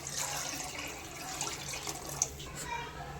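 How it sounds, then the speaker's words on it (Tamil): Water poured into a pot of simmering Sri Lankan-style beef curry with tomato and stock, a steady close pouring and splashing wash throughout, with faint voice in the background. "இப்போ தேவையான அளவு தண்ணி ஊற்றிக்கலாம்."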